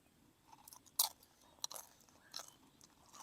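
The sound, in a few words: chewing crispy pork skin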